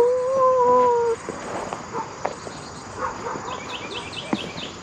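A dog howls out in the open at a brush-covered land-clearing site, a loud sustained howl at the start, followed by quieter scattered barks and bird calls in the background.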